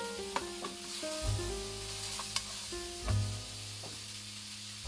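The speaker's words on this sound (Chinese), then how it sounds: "葱姜炒蟹做得好不好吃，就看这一步一定要炒出香味" Crab pieces with ginger slices and scallion whites stir-fried in a wok give a soft, close sizzle broken by several scraping stirs and clacks, quiet overall with a faint tonal backing underneath.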